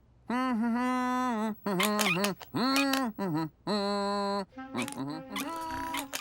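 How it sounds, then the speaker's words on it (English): A voice hums a wavering tune in several sustained phrases with short pauses, close and fairly loud. "To cover up the sound, Dragon decided to hum."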